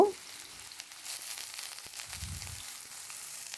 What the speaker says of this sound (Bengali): সর্ষের তেলটা হালকা একটু গরম হতেই আমি এর মধ্যে দিয়ে নিচ্ছি আলুগুলো আলুগুলো দিয়ে বেশ ভালো করে আমি ফ্রাই করব